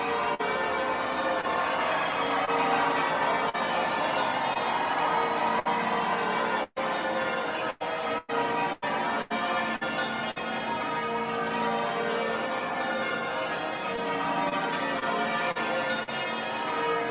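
Church bells peal continuously through a dense roar of a large cheering crowd at a royal occasion for Harry and Meghan, the bells partly buried in the crowd noise.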